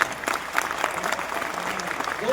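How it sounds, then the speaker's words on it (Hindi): A crowd at a Hindi poetry recital during a fair festival breaks into brisk applause, close and fairly loud, with individual claps standing out over a steady bed of clapping and faint voices. "पूरा सदन जोरदार तालियां उठाएगा"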